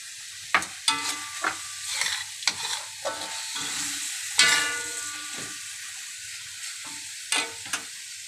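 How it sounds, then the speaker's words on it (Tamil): Onions fry in a pan in a home kitchen while cooking a spicy boiled fish dish, a steady sizzle broken by repeated sharp scrapes and clinks of a stirring spoon, close and without talk. "வெங்காயத்தை கொஞ்சம் தீ விட்டுக்கோங்க."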